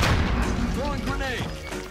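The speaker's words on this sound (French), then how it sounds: "Throwing grenade." Grenade blast in Call of Duty Warzone: a heavy booming explosion with a rumbling low tail and falling tonal echoes, loud and close, over about two seconds with no speech.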